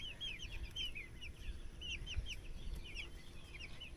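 Baby chickens peep and cluck in a steady, busy stream of high chirps, close by and fairly soft, over a low rumble of outdoor background noise.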